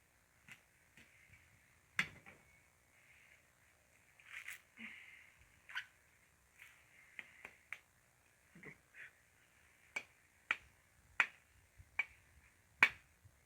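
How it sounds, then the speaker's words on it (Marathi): A fresh coconut is hacked and cracked open by hand in a village setting, giving a quiet, irregular series of sharp knocks and cracks with short gaps between them. "आता तुमच्यासमोर हे नारळ फोडतो आणि ग्लासमध्ये टाकतो."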